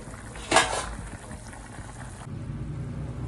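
A covered pot of bitter gourd curry with tamarind juice simmers with a faint, steady bubbling. A brief sharp hiss comes early, then a low rumble under the lid.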